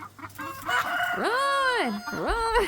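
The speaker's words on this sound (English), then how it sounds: "Watching these chickens fight over pieces of bread cracks me up." Chickens squabble over pieces of bread, giving loud rising and falling squawks and a drawn-out crow-like call. A person shouts briefly over them.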